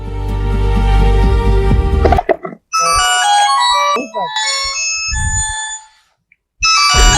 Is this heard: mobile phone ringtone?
yes